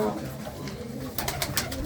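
Large pigeons coo softly inside a coop, a low continuous murmur with a few sharper rustles toward the end, fairly close, with a person talking over it.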